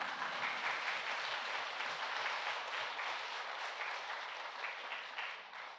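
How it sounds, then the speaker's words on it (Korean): A congregation at a church prayer retreat applauds steadily, with many hands clapping in an even, sustained wash that fades slightly at the end. "이렇게 박수 쳐도 괜찮아요."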